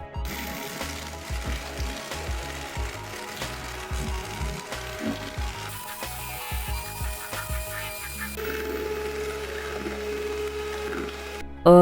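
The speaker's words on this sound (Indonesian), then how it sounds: "Mixer dengan kecepatan secara bertahap dari kecepatan sedang selama 2 menit kemudian naik ke kecepatan tinggi hingga adonannya itu kental dan berjejak." Mito electric hand mixer whirring steadily at high speed through egg batter for steamed watermelon bakpia, a continuous motor drone with rattling beater clatter, close and loud, no talking.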